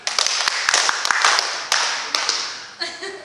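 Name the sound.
group clapping hands five times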